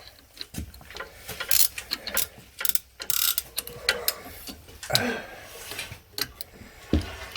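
Ratchet with a 10mm socket tightening bolts on the rear axle of a Gen 4 Suzuki Jimny during an Old Man Emu lift kit fitment, giving bursts of quick clicking and mechanical rattles in irregular runs, close by, with low voices at moments.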